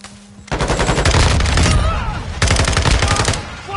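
Gunfire in a PS4 video game, dense loud bursts of rapid automatic fire running almost continuously with a short break midway, with no voices heard.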